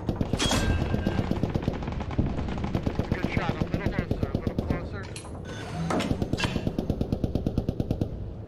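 Rapid automatic gunfire from the Post Scriptum war game, with bursts of machine-gun shots cracking in a steady rhythm across the whole stretch, broken by a few heavier individual blasts.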